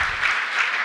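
Short burst of steady clapping from the crowd at an Emancipation Day breakfast, dense and even throughout.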